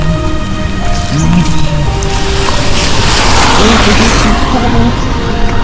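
Heavy rain pours down on a university campus road with water running across it, a loud continuous hiss and patter, with faint passing vehicle noise and a few brief voices.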